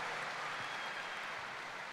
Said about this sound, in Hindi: जोरदार तालियां हमारे वीनस लीडर प्रदीप मिश्रा जी के लिए